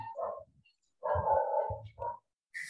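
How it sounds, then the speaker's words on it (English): Dogs bark in a few separate bursts, a short one, a longer one and another short one, fairly distinct against silence, with no one talking over them. "There were dogs barking at her place."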